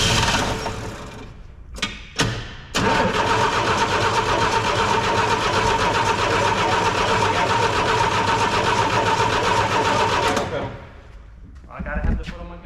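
Engine of a 1962 Chevy II abandoned for 13 years cranking over, a steady loud churning drone lasting about eight seconds after a few short attempts, with people talking briefly around it.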